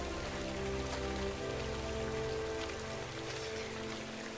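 Steady rain from the WWII drama The Pacific, falling on surfaces in a dense, even patter that stays constant with no pauses, heard alone with no speech.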